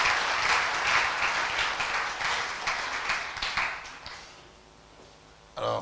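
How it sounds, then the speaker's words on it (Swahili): A church congregation claps for the Lord, a full round of many hands that gradually thins and fades, leaving a quieter room before a brief new sound cuts in at the end. "Tumpigie Bwana makofi"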